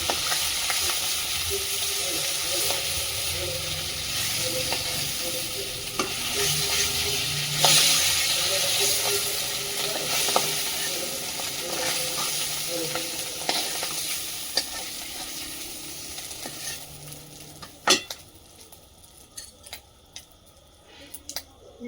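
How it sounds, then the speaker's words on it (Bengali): Fish frying in hot oil sizzles continuously and close by, with occasional sharp scrapes and taps from a spatula, quieting toward the end. "মাছগুলো ভাজা হয়ে গেছে, তুলে নেব।"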